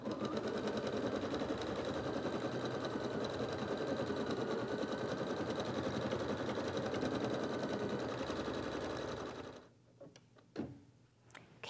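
An embroidery machine stitches an in-the-hoop felt egg holder with a fast, steady mechanical chatter, loud and close for about nine seconds. It then stops abruptly, leaving a few quiet clicks and handling noises.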